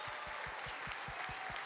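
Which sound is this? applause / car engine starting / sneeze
applause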